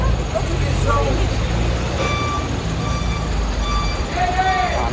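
At a bus terminal in Guatape, Colombia, buses idle and rumble steadily, with low engine drone, scattered traffic noise and the occasional faint brake squeal, all under nearby chatter from people talking.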